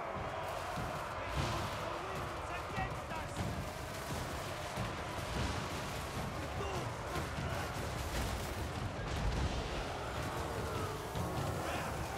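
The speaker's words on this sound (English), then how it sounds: "the space that our Streltsy need to start shooting, taking pot shots at the fleeing units" Streltsy musket gunfire crackles in a Total War: Warhammer 3 battle, a faint, scattered series of shots and thuds layered over a busy battlefield din.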